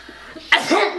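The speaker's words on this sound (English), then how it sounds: "Oh my god, I just sneezed." A person sneezes once during a helium balloon challenge, a sharp, close burst after a brief quiet intake, trailing into a short voiced tail.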